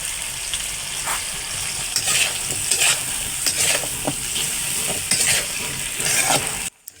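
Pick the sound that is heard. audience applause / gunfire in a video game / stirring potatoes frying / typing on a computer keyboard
stirring potatoes frying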